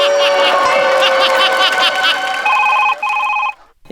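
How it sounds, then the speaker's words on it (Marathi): A telephone rings loudly in a Marathi comedy sketch, with repeated electronic ring bursts continuing steadily, while voices and audience laughter run underneath. "मला फोन आला सर"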